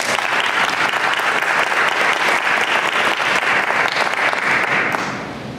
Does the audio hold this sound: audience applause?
yes